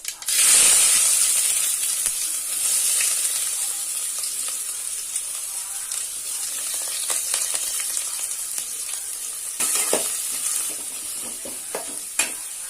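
Steady loud sizzling of onion, green chilies and curry leaves frying in hot oil, with occasional scraping as it is stirred.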